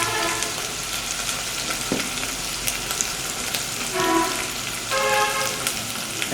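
Beef curry with chickpea dal, seasoned with salt and turmeric, sizzles steadily in a pan while being stirred, a continuous crackling fry with occasional scraping knocks, fairly close and without talk.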